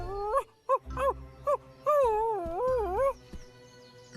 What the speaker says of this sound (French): Tu es un bon chien, Timba.